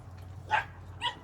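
Puppies in a group dog training class let out two short, high yips about half a second apart over a low background hum, moderately close and fairly quiet.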